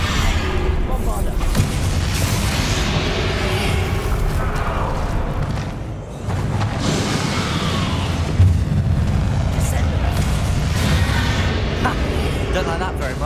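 A Bombarda spell explosion in the Hogwarts Legacy video game booms amid continuous rumbling combat effects, with a voice speaking over the noisy, sustained blasts.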